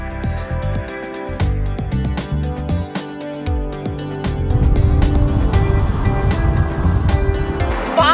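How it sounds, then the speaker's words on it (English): A Mazda Miata engine through a rev-matched downshift: a close, steady harmonic drone that swells into a louder, rougher surge about halfway through and holds there. "That was a terrible rev match."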